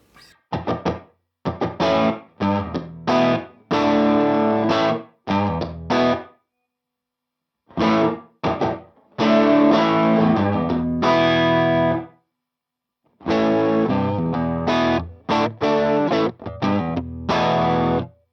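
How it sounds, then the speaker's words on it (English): A distorted electric guitar plays short chords and phrases separated by silences, with a roomy, open tone as if heard from an amp nearby, through a Universal Audio Ruby 63 Top Boost amplifier's room ambience effect. "It is the sensation of being in a room with the amp."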